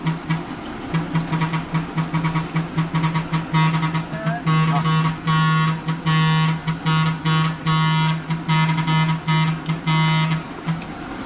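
A vehicle horn sounds in repeated short and long blasts over steady engine rumble, fairly loud and close, with a rhythmic honking pattern.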